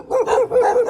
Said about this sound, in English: we're going to come up on a bunch of barky dogs